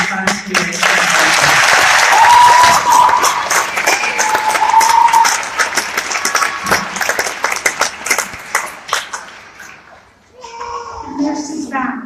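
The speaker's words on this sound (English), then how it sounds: "let's have an additional round of applause for these volunteers" An audience applauds volunteers at a college nursing pinning ceremony, with loud, dense clapping that builds and then thins into scattered claps before fading out, while voices and a brief whistle-like cheer rise over it.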